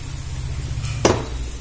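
Spices fry in a pan with a little water while being stirred for pomfret fish curry, a steady low sizzle with one sharp utensil scrape against the pan near the end.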